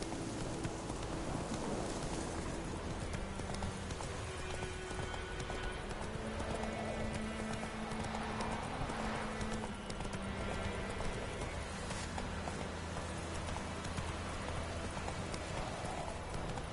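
The horse Roach galloping in The Witcher 3 video game, continuous hoofbeats under a dense game soundscape with a brief neigh, the sound steady and fairly faint throughout.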